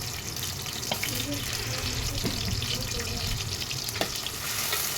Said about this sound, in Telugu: ఫ్రై చేయాలండి ఫ్రై గోల్డెన్ ఎర్రగా వచ్చేదాకా ఫ్రై చేసుకోవాలి ఉల్లిపాయలు వేగాలండి బాగా